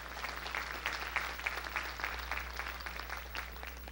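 Congregation clapping hands during a Sunday evening church service in 1985, scattered rhythmic claps from a group over a low steady hum, moderately faint and somewhat distant.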